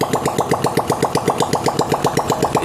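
A Honda CD70 motorcycle, just fitted with new piston rings, idles after being kick-started. Its single-cylinder engine fires in a steady, rapid, even putter, close and fairly loud, with no talking.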